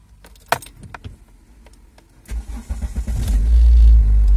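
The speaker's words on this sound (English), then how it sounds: "So this is going to be a cold start." A Toyota car with a stalling and hesitating fault is cold started: keys jangle and click, the starter cranks briefly, then the engine catches and settles into a loud, close idle.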